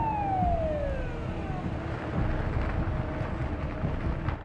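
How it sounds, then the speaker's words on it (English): A police car siren wails behind a vehicle, a clear sweeping tone falling in pitch at the start and then carrying on steadily over a constant road rumble, loud and close, with no talking. "a police car appears behind them, flashing its lights and signaling for them to pull over"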